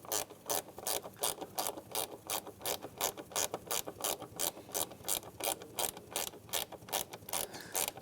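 Ratchet tightening mass air flow sensor screws into plastic on a 2007-2015 Mazda CX-9, a quiet, close, rhythmic series of quick clicking strokes repeating about twice per second, alone without talk.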